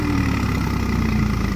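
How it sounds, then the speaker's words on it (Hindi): A Swaraj 744 XT tractor with a trolley, stuck in wet, rain-soaked field soil, chugs steadily at idle, a low continuous rumble close by with no voices. "लो भाई, फंसा दिया ट्रैक्टर ने तो"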